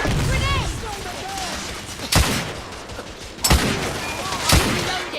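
Gunfire from the video game The Order: 1886 comes as three loud, sharp shots spaced about a second apart over steady game ambience, with a few faint whistling effects early on.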